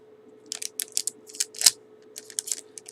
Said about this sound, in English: I'm going to just start by taping the ribbon to the